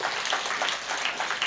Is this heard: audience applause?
yes